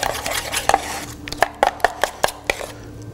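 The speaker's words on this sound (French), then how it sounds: "on va mélanger les épices tandoori et le yaourt" Tandoori spices being mixed into yogurt with a utensil in a dish, giving a run of close, sharp clinks and taps that quicken toward the end.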